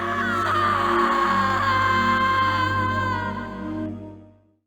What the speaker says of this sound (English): We hear Stephanie scream again.